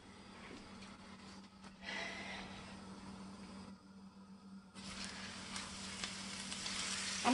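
Beef roast searing in hot oil in a nonstick pan, a steady close sizzle that drops away briefly and then returns louder and brighter, with no talking.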